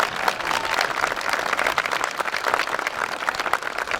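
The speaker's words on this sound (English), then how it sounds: "One more round of applause for them, please." Crowd at a high school graduation ceremony applauding the graduates, a dense, even wash of many hands clapping continuously at moderate volume throughout.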